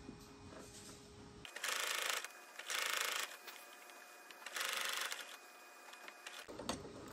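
A home sewing machine stitches bias tape onto fabric, with three bursts of fast mechanical whirring separated by short pauses as it backstitches and runs forward, set against a quiet room.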